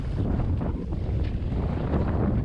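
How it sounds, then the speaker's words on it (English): Strong wind roars and buffets the microphone aboard a sailboat anchoring on a blustery day, a constant low rumble with gusts and faint water sounds beneath it, no voices. "So it's a pretty blustery day"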